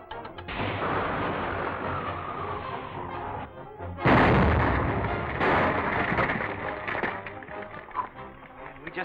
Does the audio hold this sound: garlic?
no